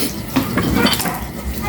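Dishes, plates and utensils being washed during a house cleaning, several quick clinks and clatters of crockery and cutlery close by in a short burst.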